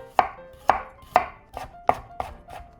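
A knife chops half an onion into thin strips on a cutting board, six sharp close thwacks at an even, unhurried pace with no talking.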